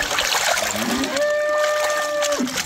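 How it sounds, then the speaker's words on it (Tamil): One cow moos a single drawn-out low call partway through, heard over steady background noise. "என்னடா சவுண்டு? மாடு கட்டுது."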